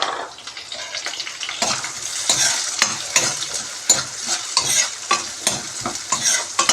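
Chopped onion fries in a pan with a steady bright sizzle, and a utensil repeatedly scrapes and stirs through it in irregular strokes, close and loud, with no talking.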